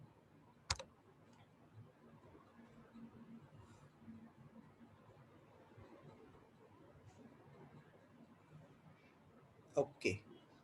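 A computer mouse gives a sharp single click near the start, then a quick double click near the end, separated by a quiet stretch of faint room noise.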